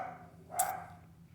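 A single short bark from Toby the dog, set off by lawnmowers working nearby, sounds once at moderate distance over a low steady hum of background noise.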